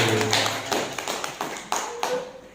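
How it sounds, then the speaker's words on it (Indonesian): A few people in a school classroom clap sparsely, the claps landing as separate sharp hits at an uneven pace, with faint voices underneath. "tepuk tangan dulu untuk semua"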